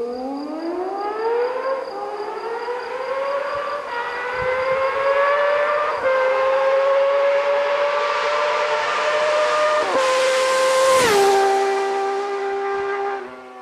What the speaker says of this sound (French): la moto que vous voyez en face de moi, donc c'est ce que vous venez d'entendre sur l'extrait que je viens de mettre